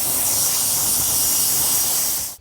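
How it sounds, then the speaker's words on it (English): Car wax spray hissing onto wheels in one steady, loud continuous burst that cuts off abruptly at the end, with no talking. "Shake well, spray on, wipe dry."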